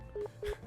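Three short, faint telephone dialing tones beep in quick succession as a phone call is dialed in the visual novel game Nekopara.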